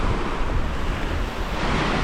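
Ocean surf at Mexico Beach, Florida rolls in as a steady, loud roar of breaking waves, mixed with wind buffeting the microphone.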